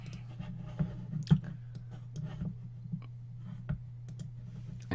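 A computer mouse clicks several times in quick, uneven succession, close and fairly quiet, with faint steady hum underneath and no talking.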